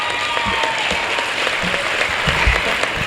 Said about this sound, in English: So let's give all our speakers a round of applause.